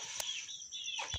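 A rooster on a home poultry setup with chicks nearby gives short, close, fairly loud clucking calls, two brief bursts framing a steady bright chatter over about a second.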